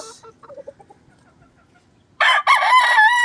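A five-month-old yellow-legged game-farm stag crows loudly and close by after a few soft clucks, its cock-a-doodle-doo filling the last second of the clip.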